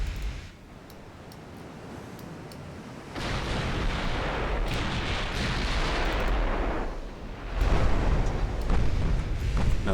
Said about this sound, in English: Another ricochet.